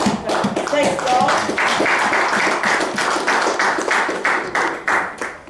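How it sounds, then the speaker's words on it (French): A church congregation claps in praise, loud and close, with dense rhythmic hand claps that fall into a regular beat, while voices speak over the clapping. "On va applaudir le Seigneur"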